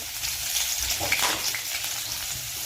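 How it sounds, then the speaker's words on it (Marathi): Hot oil with tempered mustard seeds sizzles steadily in a pan, with a brief louder crackle as onion is stirred in, close and continuous. "आता आपण त्याच्यामध्ये कांदा घालणार आहोत"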